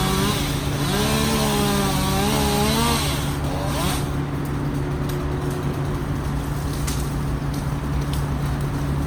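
An arborist's chainsaw cuts down trees near a building wall, a steady droning engine with a revving, wavering whine early on, moderately distant and continuous.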